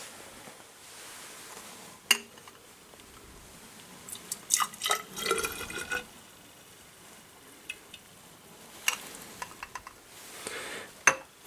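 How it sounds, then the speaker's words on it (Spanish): Wine distillate is poured into a glass graduated cylinder on a chemistry lab bench, with intermittent trickling, splashing and clinking of glassware in short bursts against a quiet room. "ahora lo que vamos a hacer es vertemos el destilado en la probeta"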